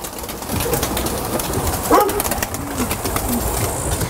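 A pigeon coos softly nearby, a few low, throaty calls over background noise.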